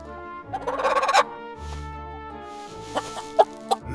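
Several short clucks from a hen, the kind said to lay golden eggs, come in a quick burst near the start and then as a few scattered calls, fairly close over a faint steady background.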